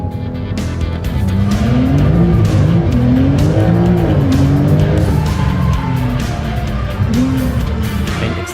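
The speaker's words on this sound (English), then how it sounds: "whether it stays straight or pulls towards one side when you accelerate or hit the brakes" A Brabus car accelerates and brakes hard in a parking lot, a loud close engine revving up and down in repeated surges with tire squeal, continuous and without talk.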